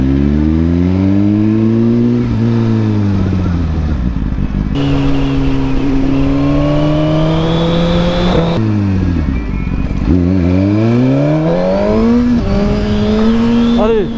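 A motorcycle engine revs hard through a wheelie on a road in Senegal, loud and close, with repeated rising and falling pitch sweeps as the throttle is opened and eased over about fourteen seconds.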